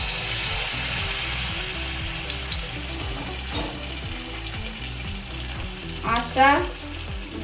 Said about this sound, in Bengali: এবার আমি একটা একটা করে এই যে ব্যাটারে ডুবিয়ে তেলে ছাড়বো